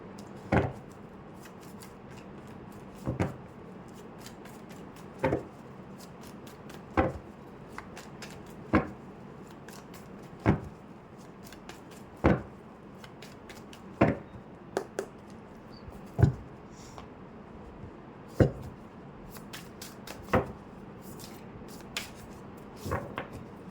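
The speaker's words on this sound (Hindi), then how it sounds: "तब तक मैं कार्ड शफल कर लेती हूँ।" Tarot cards are shuffled by hand in a quiet room, each crisp riffle landing at a steady pace about every two seconds, close and clear, with no talking.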